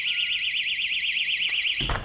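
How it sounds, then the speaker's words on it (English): A loud, newly installed door alarm sounds a steady, warbling electronic tone that continues alone for about two seconds before a thump near the end. "She's even gone to the extra step of installing a louder door alarm. It's really loud, we can hear it from both rooms."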